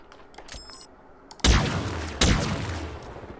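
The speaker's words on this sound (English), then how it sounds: "So here we have the Heat Wave. One of 2 shotguns in the game." Two loud blasts from the Heat Wave shotgun in Halo Infinite, spaced under a second apart, each a heavy boom with a long ringing tail and no talk.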